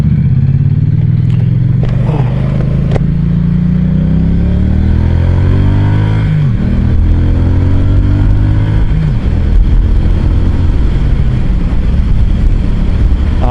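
A Triumph Street Cup motorcycle accelerates hard through its gears, the engine note rising and then dropping sharply at each abrupt shift, loud and close, with some clatter along the way.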